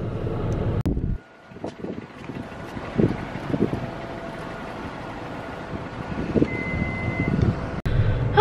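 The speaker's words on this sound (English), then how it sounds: "It's windy as hell" Strong wind roars and buffets the microphone in heavy gusts, with low rumbling bursts and brief drops between blasts.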